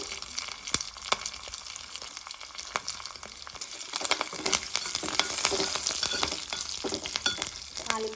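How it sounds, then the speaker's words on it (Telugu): Garlic, green chillies, dried red chillies and curry leaves fry in a little oil in a pot, giving a steady close sizzle and crackle broken by occasional stirring scrapes, with no voices. "ఎల్లిమిర్చి పచ్చిమిర్చి కరివేపాకు తాలిమిర్చి అన్నీ వేసాను"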